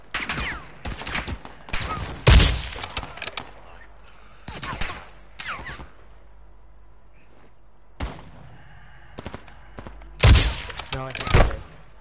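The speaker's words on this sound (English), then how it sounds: "Taking effective fire!" Rapid bursts and single shots of gunfire in a PS4 shooter game, loud clusters recurring over a low ambient bed, the heaviest volleys near the start and end.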